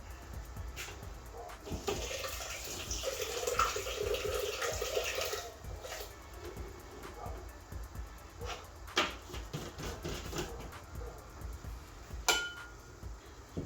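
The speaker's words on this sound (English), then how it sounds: "Rinse it real good." Quinoa is rinsed under running water, a close steady gush of water with swishing and a few louder splashes and clicks as the grains are swirled and drained, with no talking.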